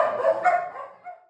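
A dog at a community dog adoption event lets out one close, drawn-out bark that trails into a whine and fades, with no talk.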